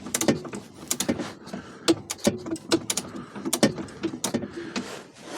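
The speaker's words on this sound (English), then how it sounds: "And we want to unscrew it." A radiator fastener is being unscrewed on a 1969 Volvo 144, with a run of sharp metallic clicks and ratcheting snaps in irregular bursts and short scraping sounds between them.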